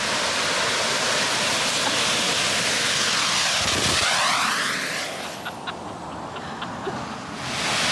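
A jet engine mounted on a jet-powered mountain bike roars loud and close with a broad hissing whine that sweeps past, then drops to a quieter rumble as it moves away.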